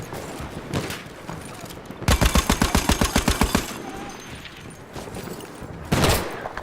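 A Browning M1917 machine gun fires in Battlefield 1, a sustained loud burst of about fifteen rapid evenly spaced shots, with scattered single shots before and after amid game noise.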